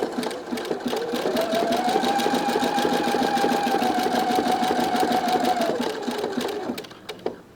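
Sewing machine running a continuous zigzag stitch around a folded lace edge, steady and close for about six seconds before slowing to a stop.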